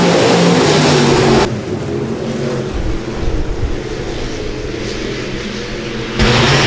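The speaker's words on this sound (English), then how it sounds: "And these stock cars going to put on a show for you here tonight at the Rapid Speedway." USRA stock cars roar past during a heat race at Rapid Speedway, a loud engine drone that drops back when the pack moves off and surges again near the end.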